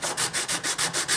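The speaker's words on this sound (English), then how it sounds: "Shut it off a little early because I have to sand that." Close, steady back-and-forth sanding strokes on a guitar fretboard during a refret, about eight even rasping passes at a brisk rhythm with no voices.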